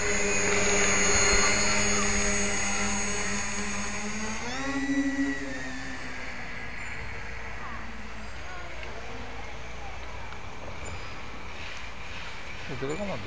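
A home-built tricopter with a CAD-designed frame and self-made electronics whirs with a loud, steady motor buzz. The pitch rises and shifts partway through, then settles into a lower drone, with voices talking over it.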